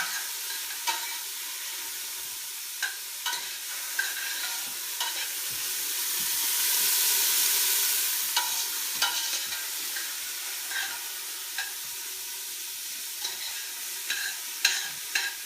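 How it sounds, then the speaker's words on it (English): Onions sauté in a pan as the base for butternut squash soup. A soft, continuous sizzle carries scattered light taps and scrapes from a stirring spoon. No voices are heard. "I'm just going to saute this until it's soft"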